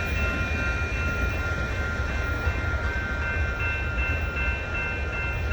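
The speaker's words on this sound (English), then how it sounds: "southbound Union Pacific mixed freight train" A southbound Union Pacific mixed freight train rolls past in Texas with a loud, steady rumble of cars on the rails, a faint squealing whine above it and no talking.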